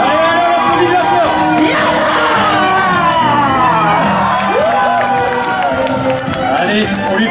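A lively outdoor crowd, children among them, cheering, whooping and shouting continuously at close range, with loud babble and voices layered throughout.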